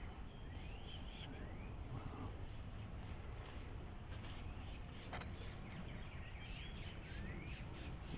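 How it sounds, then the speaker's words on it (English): A noisy bird calls in a garden with ponds, faint chirps and rising whistled notes repeating over a steady bed of insect buzz and distant background hum. "And there's a noisy bird up here somewhere."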